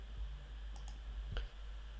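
Quiet mouse clicks on an app icon in the EgroupWare 16.1 mobile interface, a few faint, soft taps over steady room hum with no talking.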